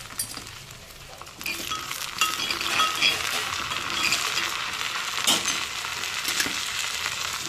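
Curry leaves, garlic and dried chillies sizzling in tempering oil for a Telugu dal dish, a steady crackling sizzle that jumps louder as ingredients are added, with occasional clinks of a spoon stirring.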